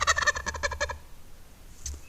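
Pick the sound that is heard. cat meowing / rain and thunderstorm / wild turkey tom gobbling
wild turkey tom gobbling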